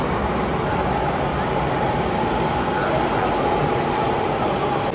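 Steady rumbling of a train to Palencia, Spain, running on rails, a dense continuous roar with no distinct clacks, close and loud throughout.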